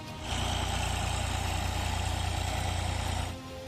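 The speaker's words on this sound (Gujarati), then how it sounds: "પોતાની જ ડુંગળી પર ટ્રેક્ટર ફેરવી રહ્યો છે આ ખેડૂત" A tractor runs over a field of onion crop, its steady mid-pitched engine drone rising in abruptly, holding level for a few seconds, then cutting off, with no voices.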